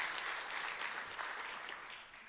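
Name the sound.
congregation applause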